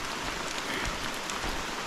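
Rain falling in a Costa Rican rainforest, heard from under a rain cover: a faint, steady hiss of drops with a single soft thump at the very end, no voices.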